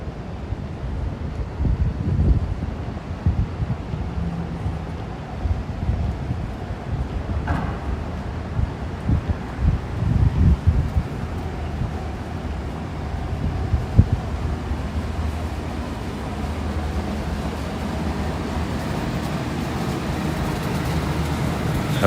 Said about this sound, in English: Also, it feels a little windy.